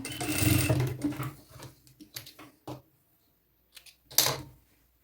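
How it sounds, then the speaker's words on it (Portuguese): A sewing machine stitches a dress neckline, running in a loud sustained burst, then a few short intermittent runs and a final brief burst, with no talk. "E aqui a gente vai costurar."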